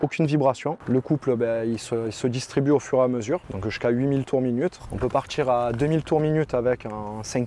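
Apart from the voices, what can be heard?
None of the usual background noises is heard.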